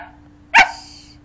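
A single sharp yip-like bark from a playful puppy, loud and close, standing alone against a faint steady hum.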